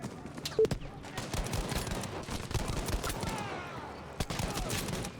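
Gunfire in the World War II shooter Battlefield V: scattered rifle shots and bursts ring out close and far in irregular volleys, with a sharp crack near the start and another near the end.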